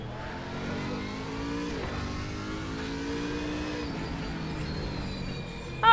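Old BMW race car in a racing simulator game, engine revving steadily through rising and falling gear pulls, loud and continuous with no one talking.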